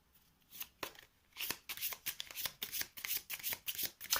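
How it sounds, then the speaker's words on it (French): Playing cards from a discard pile in a solo game of The 7th Continent are handled and shuffled, with a run of brisk, close riffling bursts in an uneven rhythm and no voices. "je prends 6 cartes au hasard dans la défausse"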